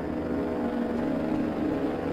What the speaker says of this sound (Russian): А, я слышу дроны где-то там.